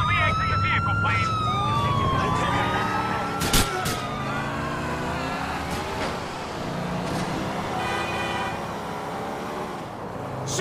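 Wailing police sirens sweep up and down during a GTA 4 car chase, loud and continuous over engine noise and crash sounds, with game voices talking.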